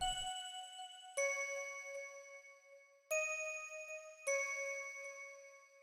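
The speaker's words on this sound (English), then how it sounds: "And then this is a bell." A soft synth bell from a dark plugg beat rings out in four sustained, slowly decaying notes, each struck clearly after a pause, quiet and alone.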